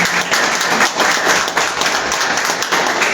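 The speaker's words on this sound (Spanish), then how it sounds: "Denle un aplauso" Church congregation applauding, a dense, steady wash of clapping hands filling the room at close range and fairly loud, holding evenly throughout with no voices standing out.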